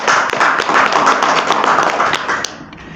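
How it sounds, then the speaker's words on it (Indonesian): Dense crowd applause at a campus academic ceremony honoring a cum laude graduate, many hands clapping steadily at close range and tapering off near the end. "tepuk tangan dulu"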